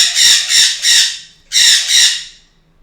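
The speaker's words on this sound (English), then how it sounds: "that bird's going to drive me crazy" A pet bird squawking indoors, five loud, harsh, close calls in two quick bursts of three and two, with a faint low hum underneath.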